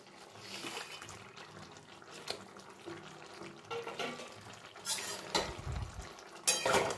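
Fried fish and garam masala stirred into a cabbage curry, with a spoon scraping and clinking against the pan over a low simmering sizzle, with a few louder knocks of utensils toward the end.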